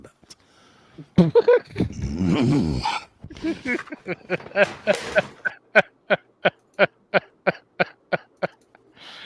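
A dog growls roughly for a stretch, then gives a steady, evenly spaced run of short whimpering yelps, with scattered voices and other throaty sounds before it.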